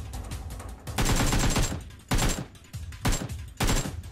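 Bursts of automatic gunfire in PUBG Mobile: four loud rapid-fire volleys of about half a second to a second each, separated by short pauses, sharp and close.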